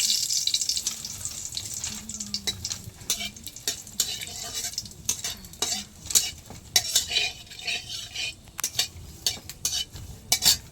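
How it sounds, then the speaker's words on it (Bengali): Crushed cinnamon, cardamom and cloves hit hot oil in a kadai, giving a soft crackling sizzle broken by sharp, irregular clinks and scrapes of a metal spoon against the pan, close up with no talking. "আমি এবার থেতো করা দারচিনি, এলাচ, লবঙ্গটা ফোড়নে দিয়ে দিচ্ছি"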